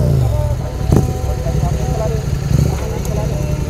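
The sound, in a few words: Yamaha R15 motorcycle loud exhaust with dB killer removed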